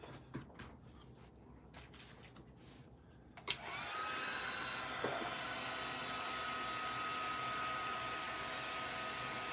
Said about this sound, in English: Let me finish heat embossing all of this here